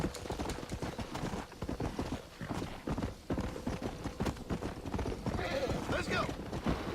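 Horse hooves clip-clop steadily in the Red Dead Redemption video game, mixed with game ambience and a brief whinny, while a voice talks over them throughout.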